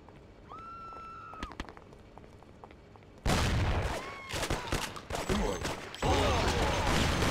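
Explosions and gunfire from the video game Mafia: The City of Lost Heaven. A quieter stretch gives way to a sudden loud burst of booming, crackling blasts that keeps going, followed by another heavy eruption near the end.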